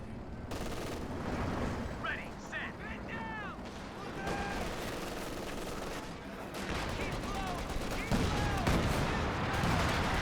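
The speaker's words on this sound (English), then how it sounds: "Double Katushas now" A Katyusha rocket artillery barrage in a wartime strategy video game rattles off as dense rapid volleys of whooshing launches and crackling impacts, continuous across the stretch, with someone talking over the din.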